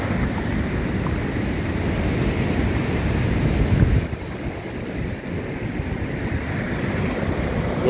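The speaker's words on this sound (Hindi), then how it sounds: "बहुत ज़्यादा पानी इधर आ रहा है।" River floodwater rushes through a village with a broad, steady roar, mixed with gusty wind buffeting the microphone. The roar eases slightly partway through but never stops.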